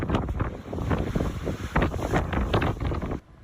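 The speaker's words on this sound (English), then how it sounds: "the winds are whipping in eastern Arizona" Strong wind gusts of up to 60 mph whip across open ground in Vernon, Apache County, eastern Arizona, buffeting the microphone with loud, rumbling, uneven blasts that drop off suddenly near the end.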